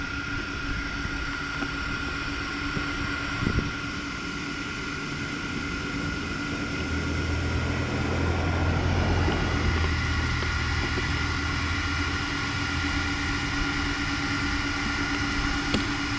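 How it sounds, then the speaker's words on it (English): Cooling fans on an Arrma Kraton 8S RC truck whir with a steady tonal hum outdoors, joined midway by a low rumbling swell, with no voices. "Oh, you gotta love the sound of those fans"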